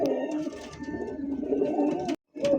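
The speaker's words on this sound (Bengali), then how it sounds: "দেখতে পাচ্ছেন নান কবুতর, ইয়েলো নান আর রেড নান" Nun pigeons, both yellow and red Nun breeds, coo close by. The low cooing is continuous and layered, stops briefly near the end, then starts again.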